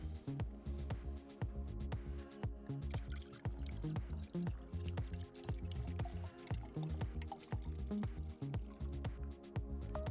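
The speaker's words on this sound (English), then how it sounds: "And then we'll pour our hot cocoa right on top." Hot cocoa pours into a glass mug already holding Bols Genever, a soft continuous trickling with small splashes and drips, quiet and close.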